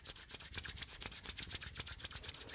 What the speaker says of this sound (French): On frotte à nouveau les mains.